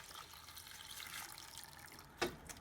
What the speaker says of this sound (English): this is my handful of onion skins going into a pot, which I'll fill with about 1 quart of water